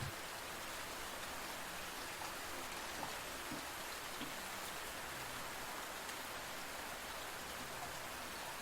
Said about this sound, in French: l'odeur caractéristique de la pluie